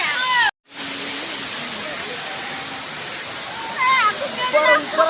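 A waterfall roars in a steady, loud hiss of falling water close by, with a brief drop at the start and voices talking over it toward the end.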